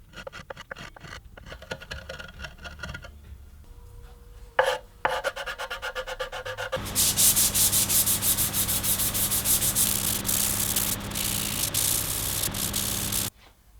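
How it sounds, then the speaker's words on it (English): A walnut and maple stool with finger joints and chamfered ends is sanded smooth, the steady abrasive rasp growing louder and continuous after a few quiet scrapes and taps. "Chamfered the ends a little bit and sanded everything smooth."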